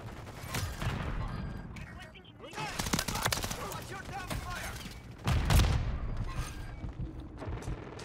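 Pistol fire from Modern Warfare 3: repeated sharp gunshots in quick bursts, mixed with dense in-game battle noise and clatter, and one heavier, louder blast partway through.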